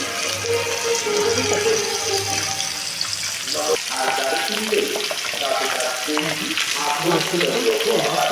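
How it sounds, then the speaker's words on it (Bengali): Pabda fish frying lightly in oil for a spicy curry, a steady dense sizzle close by with faint clinks and some background noise running throughout. "হালকা ফ্রাই করবো, বেশি ফ্রাই করবো না"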